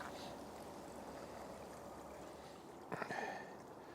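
A small woodland creek flows steadily with a soft, continuous rush of water, joined near the end by a brief close rustle.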